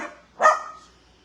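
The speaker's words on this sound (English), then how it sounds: "These are dachshunds." A single sharp, loud bark from a small dachshund rings out up close, preceded by a softer yip and trailing into quiet.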